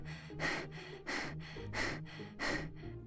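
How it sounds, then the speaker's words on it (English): Heavy, labored breathing in a close-up voice, four loud breathy gasps in a steady rhythm, each inhale or exhale rising and falling with short pauses between. "You're breathing very hard"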